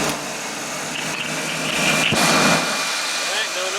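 Steady running of a 1976 GMC motorhome engine just after start-up, a close, even hum with a faint whine on top and a slight swell midway; no voices are heard.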